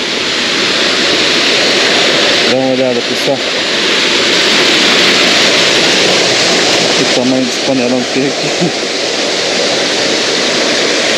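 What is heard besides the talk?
waterfall and river at Arapoti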